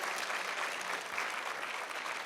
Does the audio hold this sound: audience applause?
yes